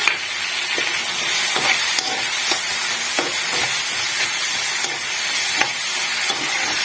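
Onion, tomato, cashew nuts and a dry red chilli fry in a pan with a steady, close sizzling hiss, broken by occasional sharp scrapes and stirring knocks, with no voices.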